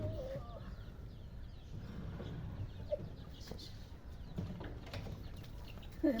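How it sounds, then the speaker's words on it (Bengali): Village chickens clucking softly as they are let out in the morning, scattered faint clucks and small calls at a distance with a quieter rural background. "মুরগি ছাড়বো মুরগি"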